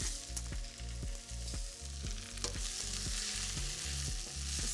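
Onions turning golden fry in a pan with a bright, continuous sizzle, underlaid by a regular rhythmic pulsing hum throughout.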